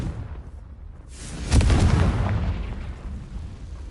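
A Confringo blasting spell from the game Hogwarts Legacy goes off with a sudden heavy boom after a quiet second, its rumbling roar loud and close before fading slowly over two seconds.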